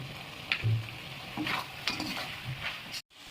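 Chicken gravy being stirred in a pan: soft, irregular scraping and shuffling strokes from a utensil, with a light sizzle underneath and a brief dropout near the end.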